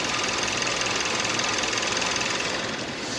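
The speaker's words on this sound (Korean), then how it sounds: "엔진 소음 먼저 들려드리면은" A mid-to-full-size sedan's engine idles with a steady continuous hum and a faint rhythmic ticking, even and unchanging throughout, with no voices.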